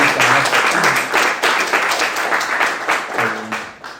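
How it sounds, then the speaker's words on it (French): Congregation applauding in church, a full, steady round of clapping with some voices underneath, loud and close, tapering slightly toward the end. "On peut vraiment applaudir, honorer notre Seigneur pour sa grâce."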